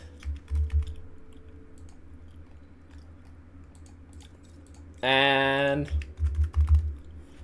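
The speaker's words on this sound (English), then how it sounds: "Sorry if I'm going a bit quiet here while typing." Typing on a computer keyboard during a Jurassic World Evolution game session, soft scattered key clicks in irregular bursts, with a single spoken word and a loud tonal game or notification sound briefly cutting over it midway.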